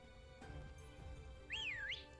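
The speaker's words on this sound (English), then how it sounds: "Yeah, you just whistle." A single rising-and-falling whistle, played as an action in the Pokémon Crown Tundra game, sounds clearly for about half a second over a soft, steady game background.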